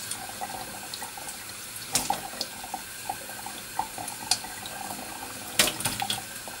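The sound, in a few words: warm tap water saturating a badger bristle shaving brush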